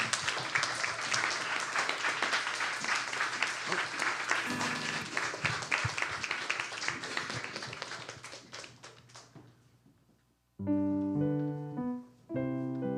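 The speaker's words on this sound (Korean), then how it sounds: "나오실 때 큰 박수 부탁드리겠습니다" Congregation applause during a Sunday university-group church service, loud sustained clapping from many hands that gradually fades out, then gives way to music with tonal notes after a short pause.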